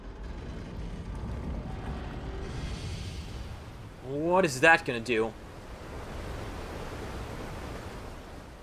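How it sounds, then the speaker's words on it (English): A rushing torrent of water roars steadily in the video game Pillars of Eternity as a broad, even wash of noise filling the scene. Someone briefly speaks over it partway through. "A faint trickle of water is audible at the edge of your hearing. It grows steadily into a roaring torrent."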